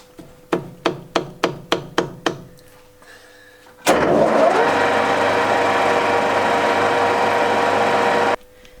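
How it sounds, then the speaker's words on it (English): An old metal lathe drilling a hole with a center drill: several sharp evenly spaced knocks, then the machine spins up into a loud steady whine and grinding drone for several seconds before stopping abruptly. "So we've just done our center drill."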